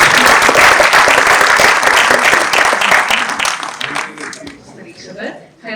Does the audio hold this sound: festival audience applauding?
yes